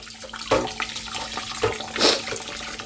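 Water sloshing and splashing as rice is swirled and rinsed, with a steady hum underneath, close by.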